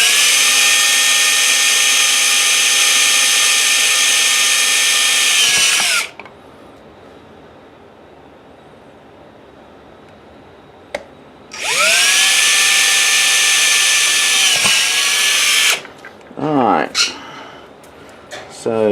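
A power drill bores holes for wiring in a light bulb project, running in two long loud bursts of steady high whine that wind down at each stop, separated by a quiet gap, with brief rattling handling noise at the end.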